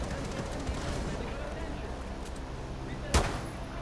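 Gunfire in Rainbow Six Siege aimed at batteries on a wall, heard as a steady background of busy game noise topped by one sharp, loud shot near the end.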